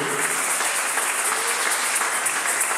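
A church congregation claps in dense, steady applause that fills the whole stretch, loud and continuous, with no voices standing out.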